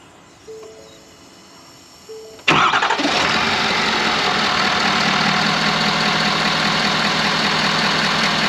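A 6.7 diesel pickup truck engine cranks and catches after a couple of short clicks, then settles into a loud, steady clattering idle that runs to the end.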